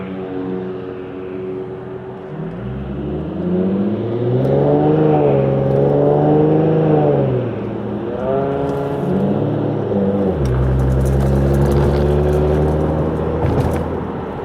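An Infiniti G37 sedan engine rumbles and revs from inside the cabin, rising and falling through gear changes with a deep, muffled drone from a Motordyne Shockwave catback exhaust.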